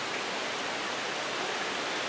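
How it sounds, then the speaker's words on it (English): Steady, hissing rain falls outdoors in a garden beside hanging cucumber baskets, a dense, even wash of drops with no pauses and no voices. "the rain is picking up so much"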